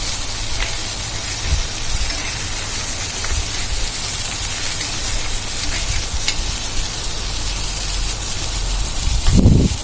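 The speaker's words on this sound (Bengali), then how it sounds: "এবার আমি এগুলোকে নেড়ে চেড়ে দেব।" Loud, continuous crackling sizzle of vegetables fried with turmeric in a pan, with a brief scrape of stirring near the end.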